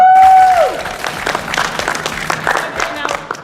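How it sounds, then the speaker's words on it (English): An audience at a stage talk breaks into a crackling burst of applause and cheering after a short tonal sound, with voices mixed into the clapping. "Now I understand cheering for the first one, because that's amazing"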